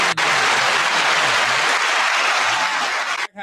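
Loud, dense hand-clapping applause from a group at a live show, sustained evenly for several seconds before cutting off abruptly.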